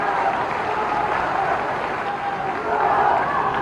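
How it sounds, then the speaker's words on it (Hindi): Steady wash of crowd applause at a political rally in Morena, loud and continuous throughout with no distinct gaps, sustained clapping from a large outdoor gathering. "उनका भी तालियां बजा के स्वागत कीजिए"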